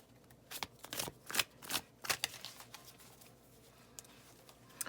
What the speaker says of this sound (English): Let's shuffle one more time. Stiff cards, not easy to shuffle.